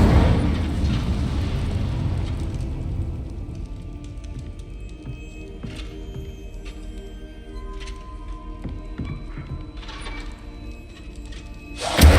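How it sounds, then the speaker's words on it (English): Fiery magical bursts from the Incendio spell in the Hogwarts Legacy video game, a loud roaring blast at the start that fades into crackling flames, with scattered sharp pops and another rising burst near the end. "Setting things ablaze is certainly cathartic, isn't it? Incendio!"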